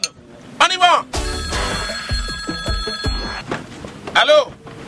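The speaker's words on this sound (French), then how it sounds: "maintenant on va aller au coup de fil de la semaine" A telephone bell rings loudly in a radio show before a call, a sustained metallic trill with a voice talking before and after it.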